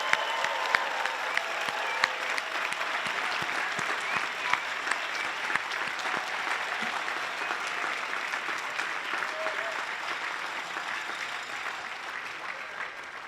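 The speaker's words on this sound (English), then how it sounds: "one more round of applause for all of our graduates for what they have accomplished." Sustained applause from a large commencement audience honoring graduates at the UC Santa Cruz Graduate Division 2025 ceremony, dense steady clapping filling the hall for over thirteen seconds with occasional sharper claps and faint cheers.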